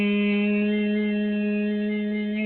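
A single sung straight tone without vibrato, held steady and even at moderate loudness for the whole stretch, with no wavering in pitch.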